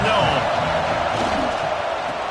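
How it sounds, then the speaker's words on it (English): Stadium crowd in an NCAA college football video game, a steady, dense roar that holds at a loud, even level throughout with no pauses. "This crowd ready to make its presence known."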